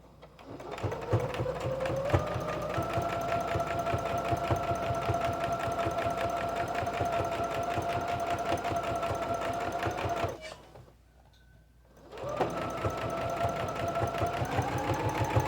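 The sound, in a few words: sewing machine stitching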